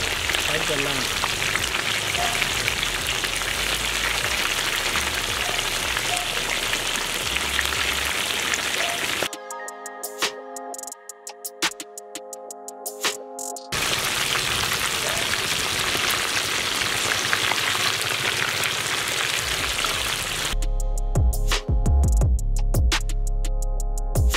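Twenty spicy chicken legs deep frying in hot oil: a loud, continuous crackling sizzle like heavy rain, broken twice by brief gaps of quiet tonal music before the frying resumes.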